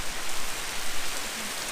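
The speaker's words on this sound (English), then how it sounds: "Oh, it's raining so hard outside." Heavy rain pours down outside on a Sunday, a steady dense hiss of drops drumming on surfaces, constant and fairly loud with no voices.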